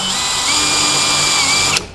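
A power drill whines steadily up close for under two seconds, drilling into a spot weld on a 1960-66 Chevy truck cab corner, its pitch holding level before it stops abruptly.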